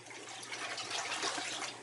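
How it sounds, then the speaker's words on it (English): Water pours and trickles as an aquarium sponge filter is squeezed out into a bucket, a steady, faint splashing hiss lasting a couple of seconds. "stick it in my bucket, squeeze it out"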